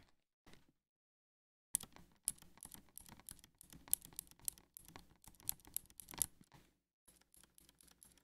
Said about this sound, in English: I've got a, the keyboard with the keycap and the switch in it.